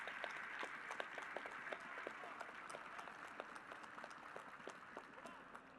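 A seated audience at a panel debate on Brazil and the global food trade applauds steadily, a dense patter of clapping that runs under a speaking voice.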